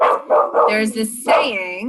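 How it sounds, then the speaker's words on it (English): A house dog barks in a few short, sharp bursts close by, mixed in with a person speaking over them. "Oh, and the dog's barking."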